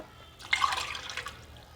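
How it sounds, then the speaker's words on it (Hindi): Water poured from a large mug into a pot of cooking nihari gives a short, close splash and gurgle lasting about a second before fading. "अब मैं इसमें पानी शामिल कर रही हूँ।"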